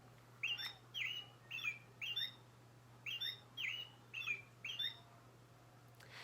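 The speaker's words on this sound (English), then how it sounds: "This is called a robin." A robin sings a series of short, bright chirping phrases in two spaced runs, clear against a quiet background with a low steady hum.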